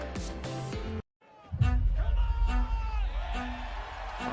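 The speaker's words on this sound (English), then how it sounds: "Oh, he's getting the crowd going." A crowd at a pro ultimate frisbee game between DC Breeze and Salt Lake Shred whoops and yells. Music cuts to a brief silence, then a rising roar of cheering swells and carries on loudly.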